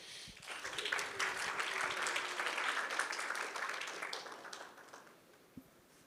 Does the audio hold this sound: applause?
yes